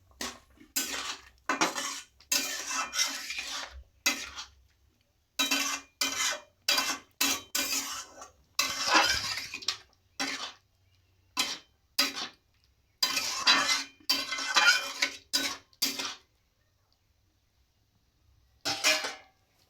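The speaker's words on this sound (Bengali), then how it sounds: "এরপর আমি একবার নেড়ে নেব।" A metal spoon scrapes and clinks against a pan while aloo tomato posto is stirred, in irregular bursts of kitchen clatter separated by short quiet gaps.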